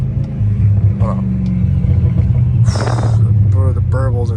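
An 800-horsepower supercharged Dodge Challenger Hellcat Redeye rumbles steadily up close, its exhaust popping and burbling in a brief crackle partway through, with a voice briefly audible over it.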